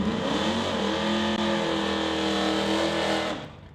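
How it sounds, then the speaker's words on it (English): A 1969 Pontiac Firebird race car at a drag race, its engine held at a loud, rough rev with a rising tone, then cut off sharply at the end, close and unbroken by talk. "Now, Sheffer's driving that 69 Pontiac."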